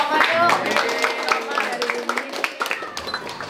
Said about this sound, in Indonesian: Tepuk tangannya buat Oma yuk.